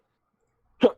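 One short, sharp sneeze bursts out near the end after near silence, close and fairly loud.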